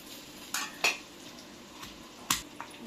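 Roasted green chilies pounded in a mortar for a Telangana village-style brinjal charu, giving a few sharp, irregular knocks and clinks, close by, with quiet gaps between strikes.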